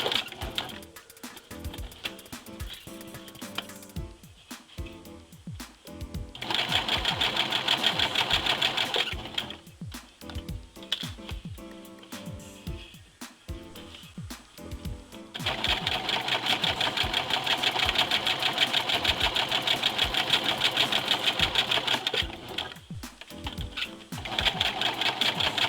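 An electric sewing machine stitches the hem of a dress shirt, whirring steadily in long runs that stop and restart, with quieter pauses between bursts of stitching.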